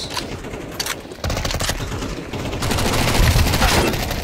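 Rapid gunfire bursts from a Counter-Strike 2 deathmatch game, loud and dense, with bursts that grow heavier and more sustained toward the end.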